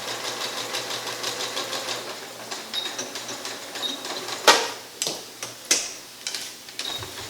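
A sewing machine stitching pieces of quilt fabric together for a log cabin quilt block: steady rhythmic ticking up close, then a few sharper, louder clicks near the end.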